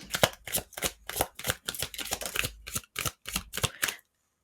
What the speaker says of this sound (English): Let's pull one more card.